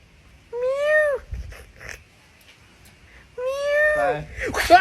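A human voice imitates a cat meowing, giving two drawn-out, high, wavering meows separated by a pause, close and clear.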